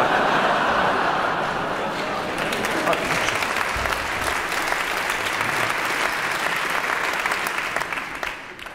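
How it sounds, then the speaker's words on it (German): Sampled applause played back during a live comedy show, a thick, continuous roar of many hands clapping, steady and close for several seconds before tapering off at the end. "Gesampeltes Applaus."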